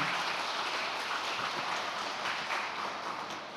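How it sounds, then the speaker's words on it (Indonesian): An audience applauds at a talk or religious gathering, a dense, sustained wash of clapping that stays loud throughout and tapers slightly at the end. "Kita tepuk tangan yang meriah"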